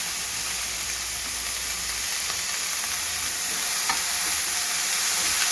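Peanut and green chili paste fries in a pan over high heat, a steady close sizzle with soft stirring scrapes running throughout, slightly louder toward the end.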